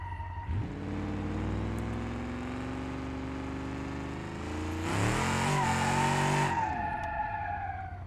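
A car in BeamNG.Drive with poor tires revs its engine hard, the tone climbing steadily as the wheels spin, then surging louder with a tire squeal before easing off, with no talk.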